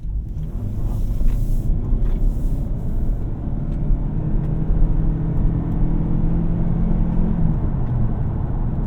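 A 2025 Toyota Camry XSE AWD accelerates on a test drive, producing a steady engine hum and road rumble from inside the cabin that holds an even loudness throughout.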